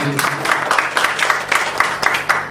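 Audience at a Kosgoro Creative launch event breaks into steady, lively applause, a dense crowd of hands clapping close and continuous, with a faint voice underneath.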